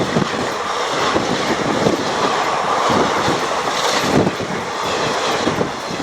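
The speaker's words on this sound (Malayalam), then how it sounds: "Nedumbassery railway station" A train at Nedumbassery railway station, near Cochin International Airport, rumbles and clatters loudly and steadily, with a constant roar of wheels on rails throughout.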